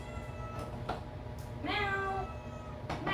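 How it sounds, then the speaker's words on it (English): A cat gives one clear, drawn-out meow, with faint shorter sounds and clicks around it in a quiet room. "Both of you are meowing at me now."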